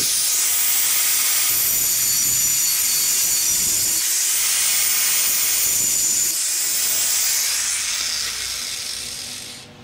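A cutting wheel grinds a square opening into metal on a B17-powered Honda CRX, a steady, close, loud high hiss with slight dips in pitch, fading near the end.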